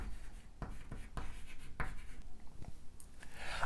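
Pen or chalk strokes scratch out a math equation in short bursts with brief pauses between them, close and fairly quiet, with no one talking.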